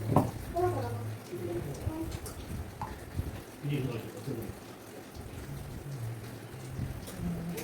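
Steady rain falls outside as a continuous hiss of drops, with someone talking over it throughout at moderate level.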